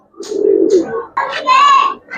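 Giribaz and coloured pigeons coo loudly and close by in a few drawn-out phrases, with a person talking among them.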